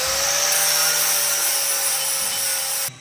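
An angle grinder cuts into a gearbox clutch housing on a BMW E46 M3 Compact, a steady, loud high-pitched grind with a constant whine that runs unbroken for nearly three seconds before dropping off abruptly.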